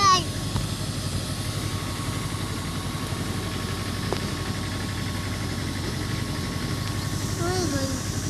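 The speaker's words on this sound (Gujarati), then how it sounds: "હે ટ્રેક્ટર આવ્યું." A tractor engine idles at a steady low rumble close by, a continuous even drone running through the whole stretch with faint background voices.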